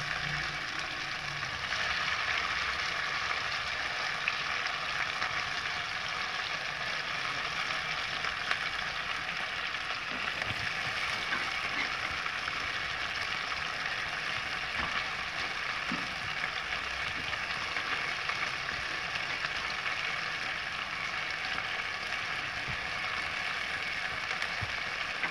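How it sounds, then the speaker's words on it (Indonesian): Ground spice paste for pecak sambal terong sautéing in a pan, a steady, even sizzle and crackle running continuously at close range with no voices. "sekarang bumbu yang tadi diulek ditumis dulu"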